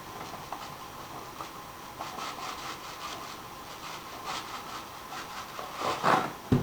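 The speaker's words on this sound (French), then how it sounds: "Sel, on frotte, on rentre dans les parois." Salt is rubbed by hand into a slab of bacon being prepared for traditional smoking, producing soft, rhythmic scraping strokes that stay fairly quiet and swell a little toward the end.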